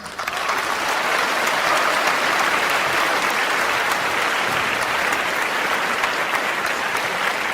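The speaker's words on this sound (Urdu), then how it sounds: "بھرپور تالیوں میں استقبال کیجیے جناب عمیر نجمی۔" Audience at a poetry recital giving sustained, dense applause to welcome poet Umair Najmi, loud and even from start to finish.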